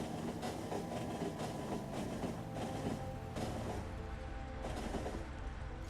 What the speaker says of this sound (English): This is a Mark III train, so it should get pretty fast.